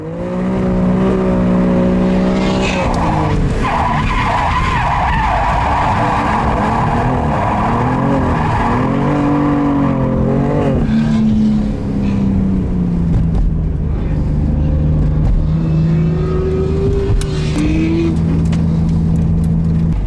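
BMW F80 M3 drifting sideways around a drift track, engine revving hard and rising and falling through shifts with tire whir, loud and close for about twenty seconds with no voices.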